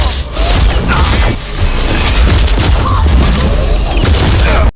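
Gunfire from a scene in an Indian action film, a loud continuous barrage of shots and booms with mechanical clatter, filling the whole stretch with dense, heavily mixed noise.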